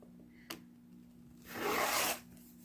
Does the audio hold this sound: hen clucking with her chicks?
no